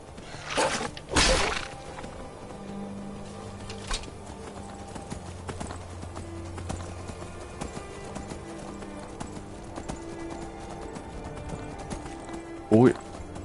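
Horse in Skyrim clip-clopping at a gallop and letting out a whinny, hoofbeats in short bursts near the start with a brief neigh late on, heard under quiet game ambience while someone talks.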